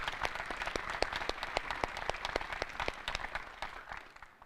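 Audience applause at a school graduation ceremony, steady clapping from a modest crowd with distinct individual claps, gradually thinning at the end.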